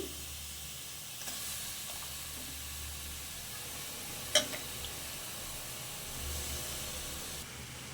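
Quiet, steady sizzling of chicken frying in a pan, with a soft hiss of steam and a faint clink partway through.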